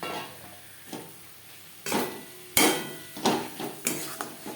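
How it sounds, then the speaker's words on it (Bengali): Prawns frying with ground spices in a pan, a quiet sizzle under a run of sharp spatula knocks and scrapes against the metal, about six strikes, close by and without talk. "চিংড়ি মাছ হালকা করে ভেজে নেব খুব বেশি কড়া করে ভাজবো না"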